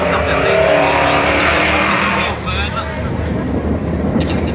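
Race car number 22 of team Overdrive at Tours Speedway, a loud steady engine roar that fades slightly midway, heard under a commentator's continuous talk.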